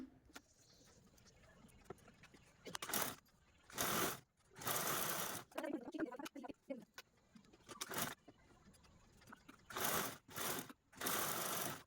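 A sewing machine stitches a zip onto fabric in several short, loud mechanical bursts, each a rapid whirring rattle of the needle, with quiet pauses between runs.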